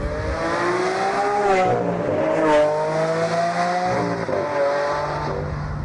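A four-wheel-drive Lamborghini sports car drives on the road, its engine holding a steady loud drone with rising and falling revs as it shifts, heard close and alone without talk.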